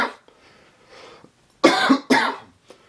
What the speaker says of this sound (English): first is just getting rid of this cough, because my god, it's annoying